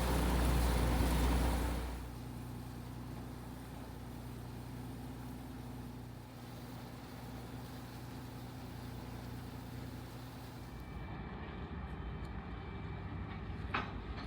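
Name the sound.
ferry ship Momokaze departing port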